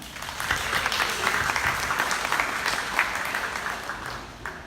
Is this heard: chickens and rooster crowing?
no